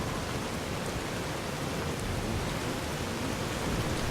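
Steady rain in the Fallout: New Vegas video game, a dense, even, loud hiss of rainfall that holds unchanged for the whole stretch with no voices.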